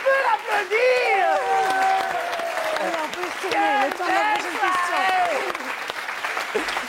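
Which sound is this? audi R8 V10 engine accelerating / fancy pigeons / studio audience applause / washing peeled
studio audience applause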